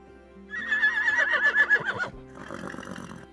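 A horse named Silas, a dressage prospect, gives a loud, close whinny lasting over a second with quavering pitch while being bridled, followed by softer snorting and shuffling.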